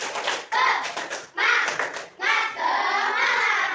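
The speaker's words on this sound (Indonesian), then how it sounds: "kita tepuk semangat dulu" Children in an Indonesian classroom perform the tepuk semangat chant, with rhythmic group clapping in bursts and young voices chanting along, stopping and starting several times.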